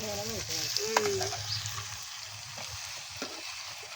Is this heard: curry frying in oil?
yes